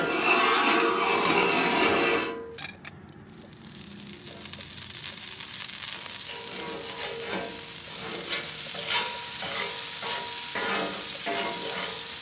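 Butter and a grilled cheese sandwich sizzle on a Traeger Flatrock griddle. A loud, bright frying hiss dips briefly, then settles into a steady, close crackle with no talking.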